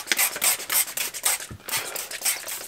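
Repeated soft rubbing strokes of a microfiber cloth over a car headlight, a steady back-and-forth swishing, close and fairly quiet.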